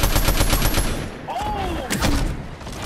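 Rapid gunfire from the Fortnite video game, bursts of shots crackling loudly and densely through the clip, with game effects and voices mixed in.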